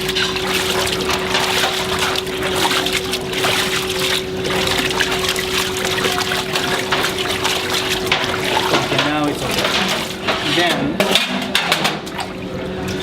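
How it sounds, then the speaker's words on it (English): Udon noodles rinsed under running water in a restaurant kitchen: a continuous loud rush of tap water with a steady hum behind it and faint clattering near the end. "Along with the noodles, and we have to wash it up a little bit."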